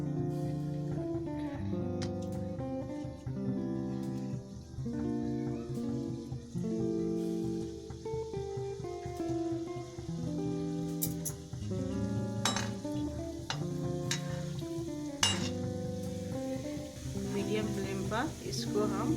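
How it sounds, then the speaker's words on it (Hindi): Gujiya fry in hot oil on a medium flame with a soft bubbling sizzle, partly masked by louder tonal music that runs throughout. "हाई फ्लेम पर पहले तेल को गरम कर लेते हैं, उसके बाद मीडियम करके छानेंगे"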